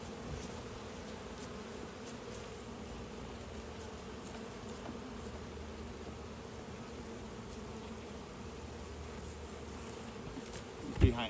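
Honey bees buzz steadily around hive frames as honey is pulled, a continuous, fairly quiet drone that holds all the way through. A brief knock comes near the end.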